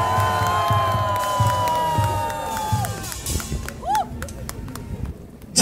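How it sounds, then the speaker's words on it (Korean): Crowd at a speech cheering and clapping, with shouts and whoops over applause that fades partway, leaving scattered claps and a few voices. "여러분 스스로에게 박수를 한번 크게 쳐주시기 바랍니다."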